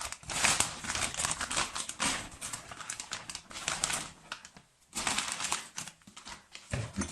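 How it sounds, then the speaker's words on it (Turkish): Kitchen faucet fittings are pulled out of a plastic bag, giving close, loud bursts of crinkling and rustling in uneven bursts with a short pause midway, and no talking over it. "Şimdi bunları poşetinden çıkaralım."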